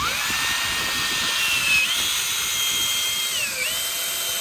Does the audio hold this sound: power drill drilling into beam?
yes